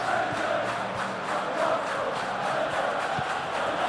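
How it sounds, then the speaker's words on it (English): A dense stadium crowd roars and chants continuously during a simulated PES 21 football match, the Champions League final between Arsenal and Manchester City, with no pauses and no clear voices standing out. "Now the crowd are demanding that they just finish this off."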